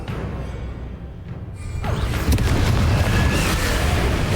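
Confringo blasting spell exploding in Hogwarts Legacy, a swelling boom that builds into a loud rumbling blast with crackling debris, sustained to the end, no voices.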